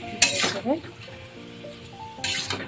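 Taro leaves with turmeric and Kashmiri chilli powder sizzle and get stirred in a pan, giving short bursts of frying and scraping under a voice.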